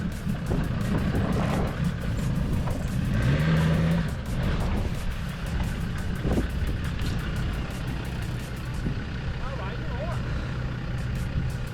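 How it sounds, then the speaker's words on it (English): A Land Rover Discovery 2 engine revving hard as its wheels spin on loose lumps of shell off-road, a loud continuous rumble with surging revs, people talking over it. "You're just spinning on the lumps of shell that are there."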